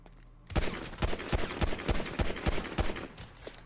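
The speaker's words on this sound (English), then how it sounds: "I was shooting Jihad in front of me" Video game gunfire in GTA: a sharp burst opens the clip, then a rapid run of loud, evenly spaced shots follows at close range, with no talking.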